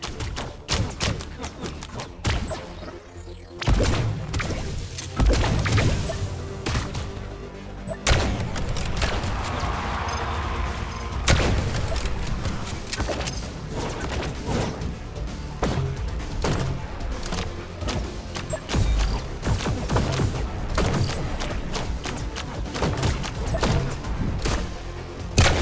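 Gunfire in the VR duel shooter Blaston rings out in rapid bursts of sharp shots and heavy thuds, a dense irregular barrage of impacts with a few brief pauses.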